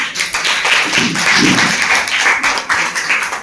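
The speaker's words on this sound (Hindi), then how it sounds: "सोनिया एक बार आओगे तो ताली हो जाएगा सोनिया का।" Dense, steady clapping from an audience at a youth team meeting presentation in Ballabhgarh, a continuous wash of hands that holds for the whole stretch with no clear break.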